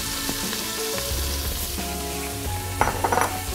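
Onions sizzle and fry steadily in a pan of bacon grease and beef fond, with a constant close hiss and a few utensil clinks toward the end.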